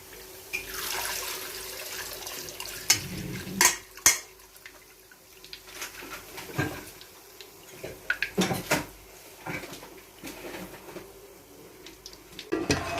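Up close, a utensil stirs hot ghee with boondi in a pan for motichoor laddu, giving scattered metallic clinks and scrapes over a steady sizzling hiss, with no one talking.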